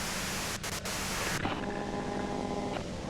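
Radio white noise from the video game Disco Elysium, a dense hiss of static that shifts partway through into a thinner, tuned hiss with faint tonal whines, steady and fairly quiet.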